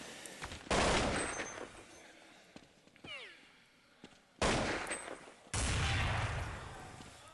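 Gunfire rings out in a Counter-Strike 1.6 tournament final match, as three sharp, dense bursts of rapid shots separated by quieter gaps.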